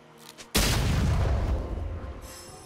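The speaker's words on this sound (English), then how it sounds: "Red team's turret has been destroyed." A turret is destroyed in League of Legends with one sudden, heavy boom after a brief quiet moment. A loud, rumbling crash follows and slowly fades.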